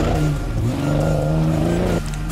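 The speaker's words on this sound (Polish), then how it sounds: "na któryś cylinder nie było zapłonu, przez co słychać taki dziwny, nierówny dźwięk" A Mitsubishi Pajero off-road car at an off-road rally runs with a misfiring cylinder, its engine note loud, uneven and rough as it drones steadily, then drops off near the end.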